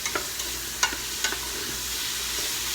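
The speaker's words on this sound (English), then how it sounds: "while you're sauteing these veggies in there" Vegetables for beef stew sauté in a pan over browned bits, a continuous bright sizzle broken by a few quick spoon clicks and scrapes early on, close and fairly loud.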